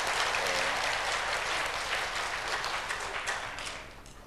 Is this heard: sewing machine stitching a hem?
no